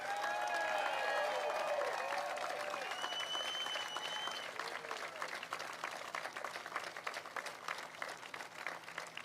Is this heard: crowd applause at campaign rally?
yes